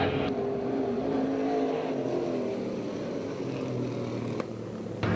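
USAC/CRA sprint cars and PASSCAR modifieds at Perris, California, circling the track with a steady blended engine drone throughout, held at a distance with no clear single pass-by.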